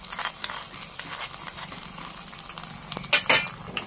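Ginger and garlic sautéing in an oil-slicked pan for a rustic village-style fish curry, a steady soft sizzle with faint stirring scrapes and a couple of louder clinks of a utensil near the end.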